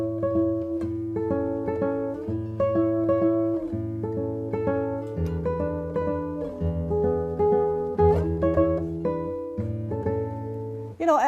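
A solo guitar plays a piece with a steady plucked melody over repeated bass notes, close and clear throughout.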